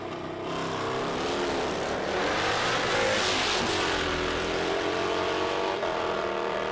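A drag racing car makes a solo pass down the left lane at a nitro drag meet, its engine roaring loud and steady throughout, rising in pitch through the gears.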